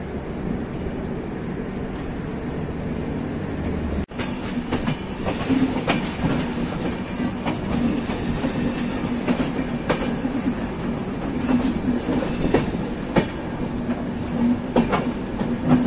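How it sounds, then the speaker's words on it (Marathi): The Golden Temple Mail 12903 pulling out of Mumbai Central, a continuous rolling rumble from inside the coach with rhythmic clickety-clack wheel beats and occasional faint squeals, steady throughout. "बरोबर 18:45ला ट्रेनने डिपार्चर घेतलेलं आहे."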